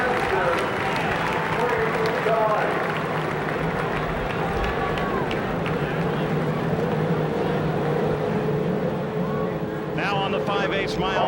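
A field of 33 race cars fires up at the start of the 1995 Indianapolis 500, a dense, sustained engine roar mixed with crowd noise and a public-address voice, with sharper rising engine notes near the end.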